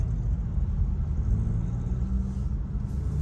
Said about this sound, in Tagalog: Marami talaga ang traffic sa lugar na ito mga kababayan.